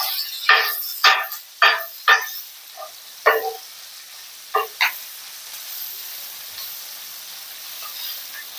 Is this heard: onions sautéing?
yes